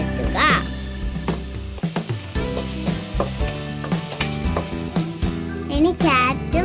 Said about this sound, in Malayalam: ഇഞ്ചിയും പച്ചമുളകും വെളുത്തുള്ളിയും ഇട്ട് നന്നായിട്ട് വഴറ്റുക